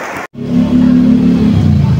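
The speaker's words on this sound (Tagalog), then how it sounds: "Lakas ng ulan oh" Loud, steady rushing noise like heavy rain pouring down, broad and continuous, after a brief silent gap at the start.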